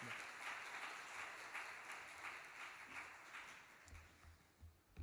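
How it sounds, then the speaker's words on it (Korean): Warm applause from a church congregation welcoming a preacher to the pulpit for a Sunday sermon, a steady wash of many hands clapping at moderate distance that tapers off near the end. "따뜻한 박수로 한번 환영하겠습니다."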